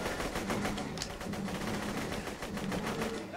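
Rapid automatic gunfire in the video game Borderlands 2, a dense continuous stream of loud repeated shots across the whole moment, with faint voice underneath.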